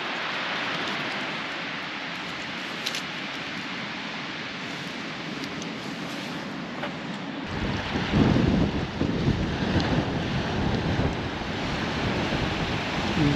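Strong wind buffets the microphone on an open Devon beach while waves and surf roar steadily underneath, a constant loud wash that swells heavier halfway through, with no talking.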